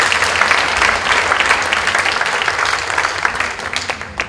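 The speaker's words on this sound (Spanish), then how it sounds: "Un fuerte aplauso para Aurora, por favor." Applause breaks out for a speaker at a round-table panel on education in human values, a dense, loud wash of clapping from an audience that carries on steadily and tapers slightly toward the end.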